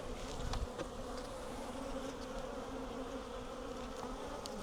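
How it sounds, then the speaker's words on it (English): A dense, steady buzz of many honey bees hums close by at an opened hive without a break, with occasional louder passes from individual insects. "These were a bit more feisty,"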